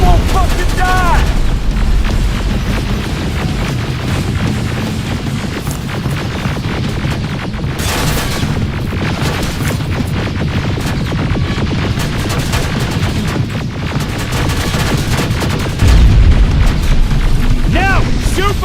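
Constant heavy booming of rocket explosions and gunfire in the video game Terminator Resistance, loud and dense throughout, with a deep thump near the end and shouting voices over the din.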